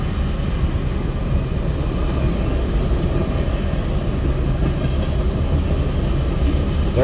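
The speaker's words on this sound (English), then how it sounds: "There's the end of the train" Heavy, steady rumbling of a long CSX freight train rolling past close by, a continuous low roar with clattering wheels throughout.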